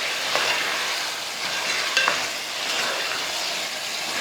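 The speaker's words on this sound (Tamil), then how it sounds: "நல்லா ஒரு 2-3 நிமிஷத்துக்கு வதக்கி விடுவோம்." Marinated chicken sautés with tomatoes in a pan for Chettinad chicken curry, giving a continuous hissing sizzle with a few scraping stirs and small clicks of a utensil, close and steady throughout.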